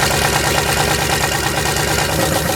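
A turbocharged LS-swapped Ford Festiva idling after an oil change, a loud close engine with a fast, even pulsing rumble that continues without a break.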